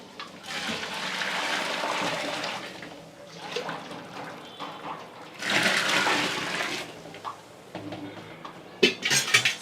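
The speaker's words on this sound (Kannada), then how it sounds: "ಈಗ ಇದಕ್ಕೆ ಬಟಾಣಿ ಬೇಯಿಸಿರೋ ನೀರನ್ನ ಆ್ಯಡ್ ಮಾಡ್ತಾ ಇದ್ದೀನಿ" Pea-cooking water poured into palak masala in a pan comes as two gushing, splashy pours several seconds apart, followed by a few light metallic clinks of utensils.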